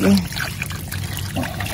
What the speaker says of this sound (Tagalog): Yan, samahan mo ng tubig.